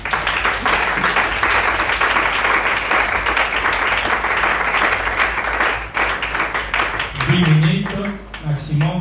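Congregation in a church service applauding steadily and loudly for most of the clip, a dense sustained wash of clapping, with a voice speaking over it near the end.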